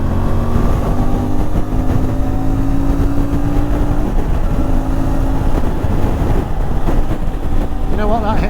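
A CFMoto 450MT motorcycle engine drones steadily as it pulls hard in fifth gear toward 6,000 revs. The tone climbs gradually under heavy, constant wind rush.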